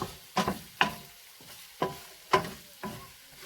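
Stirring pork sisig in a frying pan: five sharp scraping strokes a fraction of a second apart over a soft sizzle, close and fairly quiet, with no talking.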